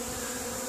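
Brief, steady hum of many honeybees buzzing together around a strong hive in a bee yard, close and continuous.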